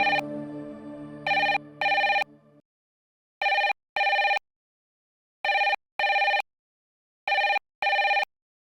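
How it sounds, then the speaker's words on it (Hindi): A telephone rings in loud, bright double bursts repeating at a steady interval, preceded briefly by a low tonal sound, with no voices in the clip. "छोड़ो ना, फोन ही तो आ रहा है।"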